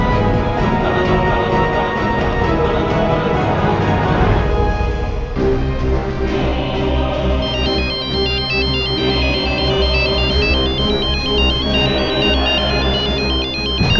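A phone ringtone plays loudly and steadily, a bright electronic melody that repeats continuously with no pauses.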